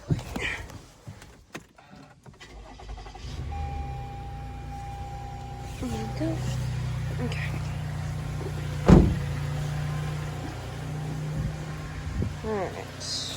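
A car starts up close by with its headlights switched on: a low engine rumble settles into a steady idle, a sharp click lands partway through, and a person speaks briefly over it.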